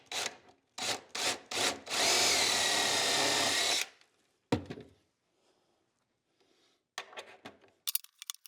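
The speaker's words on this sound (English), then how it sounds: "plan to drill all the shelf pin holes on the left and right side and middle divider" A power drill bores shelf pin holes in 3/4 inch plywood cabinet sides, heard as several short close bursts then one sustained whine, followed by quieter clicks, scrapes and handling noises.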